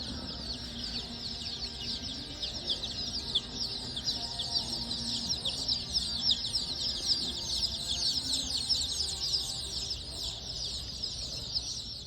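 Baby chicks peep in a steady high chorus with occasional hen clucks inside a farm supply store, continuous and moderately close with no talking.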